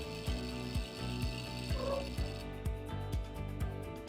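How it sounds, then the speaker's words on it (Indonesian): Brushless motor driven by a MOSFET driver spins with a fast, steady mechanical whir, and regular rhythmic clicks repeat beneath it at close range. "ini motornya langsung dia sudah bisa berputar ya"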